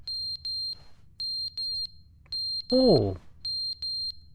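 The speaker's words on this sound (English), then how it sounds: "That's a fire alarm." A fire alarm rings in the video game The Stanley Parable 2, sounding as repeated pairs of sharp, high electronic beeps with short gaps, interrupted once by a brief spoken exclamation.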